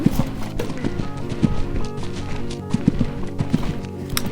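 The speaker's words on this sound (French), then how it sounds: "Là, on finit la détente des allures au galop." A horse canters during a warm-up before a competition, its hoofbeats thudding in a steady three-beat rhythm close by, with creaking tack and continuous background noise.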